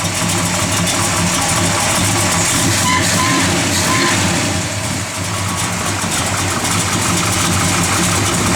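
A 1970 Plymouth Road Runner engine with a mild performance cam idling close by, a loud, steady, slightly lumpy rumble that holds throughout with a brief dip near the middle.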